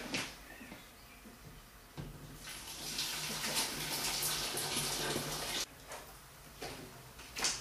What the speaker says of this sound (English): then we strain in the hot liquid